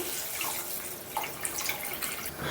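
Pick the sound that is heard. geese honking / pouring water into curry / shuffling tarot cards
pouring water into curry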